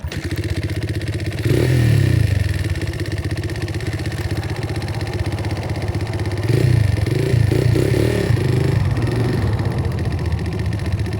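A built Honda XR100R motorcycle runs steadily near the listener, with a loud engine drone that swells into two stronger revs as it rides. No voices.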